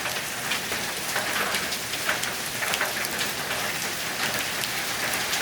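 Heavy rain pours down steadily at night, a dense, loud, unbroken hiss of drops hammering nearby surfaces without pause.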